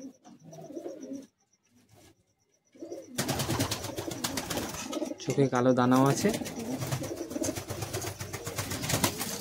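A male pigeon of an old Madrasi bloodline, held in hand, gives a close, resonant cooing call in the middle of the clip, while a person talks nearby before and after it.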